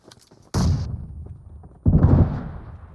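A grenade goes off in PUBG Mobile with two heavy, booming blasts about a second apart. The first has a sharp crack, the second a rumbling tail, over faint background noise.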